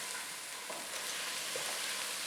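Onions sizzle steadily in hot oil after ginger and garlic, being sautéed for Punjabi rajma masala, with occasional soft stirring scrapes close by.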